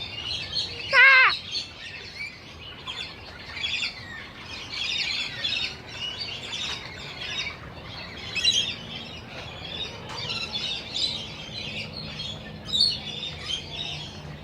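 Birds chirp and call repeatedly in bright bursts, with one loud squawk near the start and softer tweets continuing throughout.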